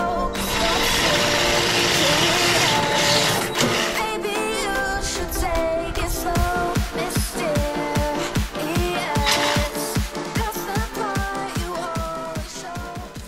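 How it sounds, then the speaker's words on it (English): A jigsaw cuts through a plastic IBC tote with a buzzy, rattling drone that starts steady and then breaks into choppy, stuttering bursts as the blade catches and pops in the material. "next up is the jigsaw."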